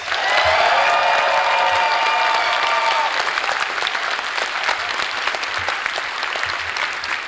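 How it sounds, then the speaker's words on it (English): Large convention crowd at the Midwest Furfest 2019 closing ceremony applauds loudly and steadily for about seven seconds, a dense wash of clapping with a few cheers mixed in early on. "Now give a round of applause if this is not your first year at Furfest."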